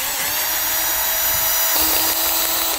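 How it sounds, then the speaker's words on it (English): A cordless drill runs steadily while it drives a screw tent peg into the ground at a campsite in Croatia. The motor whine is loud, close and continuous, and its pitch shifts slightly partway through. "We use the screw pegs, and I use my little drill gun here."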